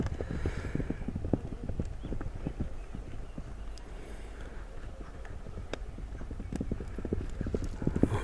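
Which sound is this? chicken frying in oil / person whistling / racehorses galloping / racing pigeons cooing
racehorses galloping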